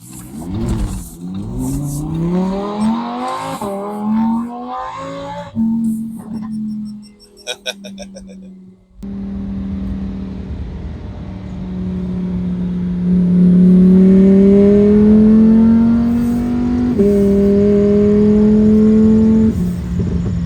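A 2023 Lamborghini Huracán Tecnica engine revs and accelerates hard through several gear changes, the pitch climbing and dropping, with someone talking over the first part.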